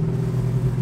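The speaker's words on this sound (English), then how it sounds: "let's go for a ride in the Cyclone" A 1970 Mercury Cyclone with a Boss 429 engine idling, a brief, steady, deep rumble heard close and fairly loud, with no talking.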